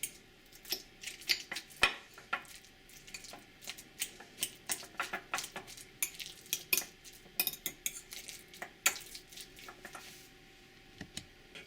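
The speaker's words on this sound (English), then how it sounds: "I like some red onion, a little bit of cilantro, some tomato, and then we just mash it up." Red onion, cilantro and tomato being mashed in a bowl for taquitos, with a steady run of soft clicks and scrapes of a utensil against the dish, fairly quiet and close with no talking.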